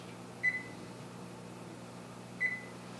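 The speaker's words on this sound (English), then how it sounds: "Set our timer for 9 minutes." An oven timer gives two short, clear electronic beeps about two seconds apart over a steady low hum, with no talking.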